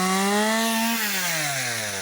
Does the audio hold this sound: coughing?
no